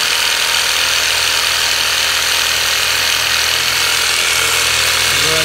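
A Thumper percussive massager runs, a loud, constant, rapid mechanical thumping drone that stays even throughout, with no talk.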